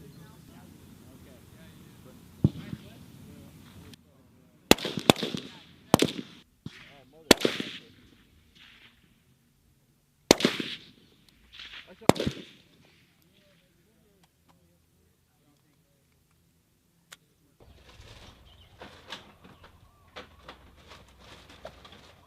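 Outdoor M7 rifle qualification shooting, a handful of sharp loud single shots spaced a second or two apart, then a long quiet stretch, with people talking faintly in the background.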